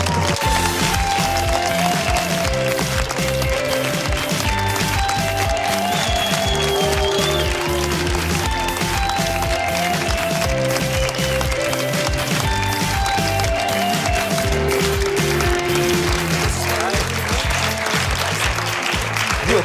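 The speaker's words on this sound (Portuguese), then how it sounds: "O vosso estrondoso aplauso para Diogo Morgado." Studio audience applause greeting actor Diogo Morgado on a Portuguese late-night talk show, a loud, dense and steady clapping roar that carries on without a break from start to finish.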